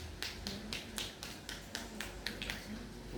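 A hand pats rhythmically on a stroke patient's skin during acute-stage bed exercise, a steady series of about a dozen close, crisp slaps evenly spaced, with no talking.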